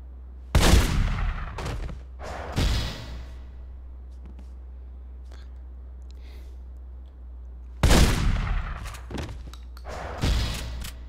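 Gunfire erupts in The Godfather: The Don's Edition on PS3, four loud, booming shots or short bursts spaced several seconds apart, with echoing tails over a steady low hum.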